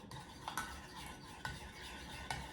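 Spoon stirring coconut flour mug bread batter in a mug, a steady scraping swirl with three sharper clinks against the side, close and alone.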